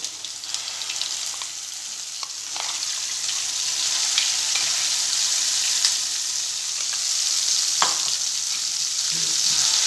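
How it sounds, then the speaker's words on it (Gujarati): Masala paste sizzles and fries in hot oil over a low gas flame for a desi chana curry, a dense, steady crackle close by with occasional sharper pops and stirring sounds. "ગેસ એકદમ સ્લો કરી દેવાનો ને મસાલા પેસ્ટને તેલમાં સાતળી દઈશું"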